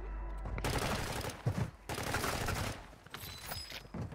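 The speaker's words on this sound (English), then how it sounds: "That is a submachine gun" Submachine gun bursts in Warzone Mobile come in two loud, close strings of rapid shots separated by a short pause, with game noise trailing after.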